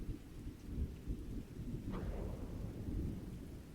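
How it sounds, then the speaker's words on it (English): Rain and thunder ambience in a video game, with steady rain hiss and a low rumbling roll of thunder that swells midway, heard alone. "I can actually get the rain and thunder."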